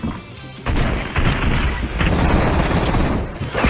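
Gunfire and rocket explosions in a fast online shooter battle royale match, dense bursts of shots and heavy booms rolling continuously at close range after a brief quieter opening.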